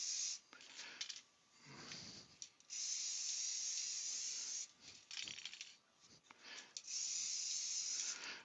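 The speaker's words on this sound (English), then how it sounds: "we'll give that a spray of the lacquer." An aerosol can sprays lacquer onto a textured vase in several loud hissing bursts of a few seconds each, separated by quiet gaps with faint handling noises.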